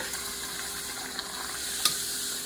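Poori frying in hot oil at home: a dense, even hiss of bubbling oil that stays steady throughout, with a faint tick and one brief louder crackle near the end, close and without speech.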